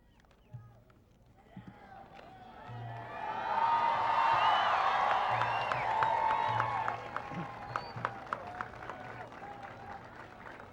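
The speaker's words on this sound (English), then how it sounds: "Dunklin Zuzmasi, with another round of applause" A large outdoor crowd applauds a vocalist at a 1998 public event with President Clinton in Hagåtña, Guam. The clapping swells to a steady, full roar, holds for a few seconds and then fades, with a voice speaking before and after.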